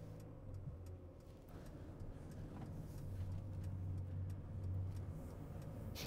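Car interior while driving on a road: a steady low engine hum and road rumble throughout, fairly quiet, with faint ticking like a turn signal and small rattles.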